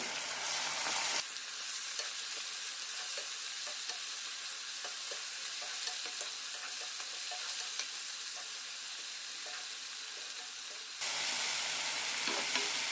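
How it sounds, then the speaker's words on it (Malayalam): Tomato masala with turmeric and Kashmiri chilli powder sizzles steadily in a pan for a soya chunks tikka masala, a close, continuous frying hiss broken by occasional stirring scrapes. "മസാലയുടെ പച്ചമുളം പോകുന്നവരെ വഴറ്റാം"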